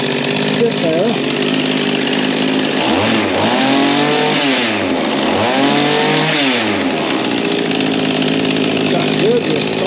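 Mantis tiller small engine running at a fast idle, a steady buzzing drone throughout, with someone talking over it in the middle.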